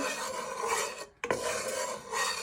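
A wooden spoon stirs sunflower oil around in a pan before diced pork is fried, making a close, continuous scraping rasp. It breaks off for an instant midway and then resumes, with no talk.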